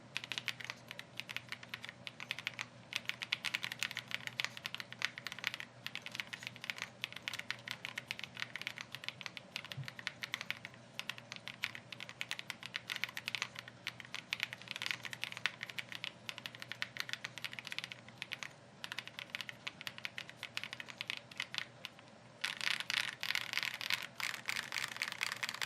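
Typing on a Zoom65 v2 keyboard with heavier switches and a polycarbonate plate: a dense, continuous patter of close keystrokes for about 25 seconds, with a brighter burst of fast typing near the end.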